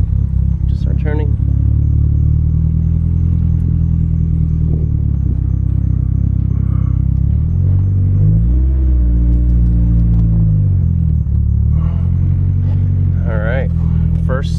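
A Nissan S14 Kouki with a swapped SR20DET engine rumbles loudly and steadily as it drives for the first time, the engine note rising and falling, with a few brief voices.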